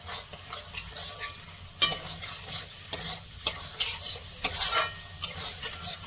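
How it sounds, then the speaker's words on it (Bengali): Fried potatoes are stirred into a pan of spice masala with salt, turmeric, cumin and coriander powder, giving a constant close sizzle broken by repeated scraping strokes and clinks of a spoon. "ভেজে রাখা আলুগুলো দিয়ে মশলার সঙ্গে কষে নেব।"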